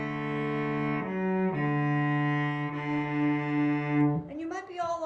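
Cello playing a passage with double stops, sustained bowed notes changing a few times, close and warm, ending as a voice begins speaking.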